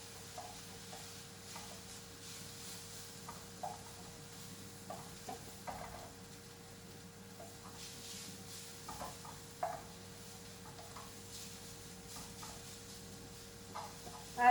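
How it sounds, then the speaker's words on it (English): Kale leaves sautéing in a pan, a quiet steady sizzle with scattered soft stirring clicks and scrapes from a utensil, fairly close but low in level, no talk. "So we want it to still have that beautiful meaty texture of kale sauteed."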